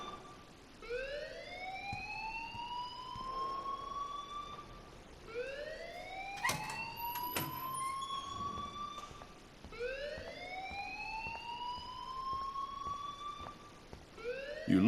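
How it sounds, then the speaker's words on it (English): A wailing alarm in the video game Life Is Strange, rising siren sweeps repeating about every three seconds over a faint background hum, with a few sharp electronic blips in between, steady and fairly loud. "please turn off that alarm since that's your job"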